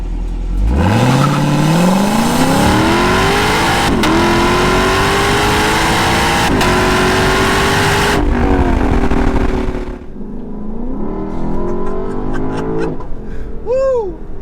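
Lexus LC500 V8 exhaust revs hard and loud, rising in pitch through long sustained pulls, then drops back to a lower burbling idle with a few quick blips near the end.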